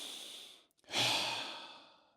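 One slow breath, a soft airy inhale fading out, then a short pause and a stronger, longer breathy exhale that trails away gradually, heard close and alone.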